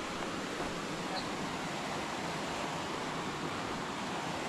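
Steady roar of the Miraflores waterfall near Huancayo, a dense continuous rush of falling water close by with no breaks, while voices are present in the mix.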